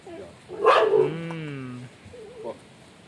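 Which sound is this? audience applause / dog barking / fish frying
dog barking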